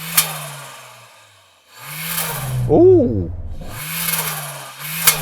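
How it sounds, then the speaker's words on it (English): A Suzuki Jimny revs once in a single rising, swelling engine burst while parked close by before a drag race against a Peugeot 205 GTI. A person briefly exclaims over the engine. "So I am going to rev up this Jimny."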